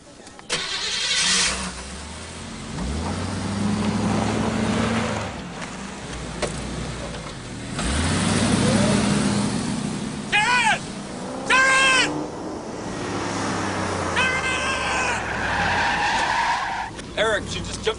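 A car engine starts and revs as a woman drives off in a horror film, with tyre skids, revving surges and a few high squeals, plus some voice-like sounds mixed in.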